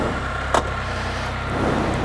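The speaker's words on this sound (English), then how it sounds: "Start the engine." A Can-Am Spyder three-wheeled motorcycle runs at a close, steady engine drone with a short mechanical click partway through, and the motor keeps humming evenly to the end.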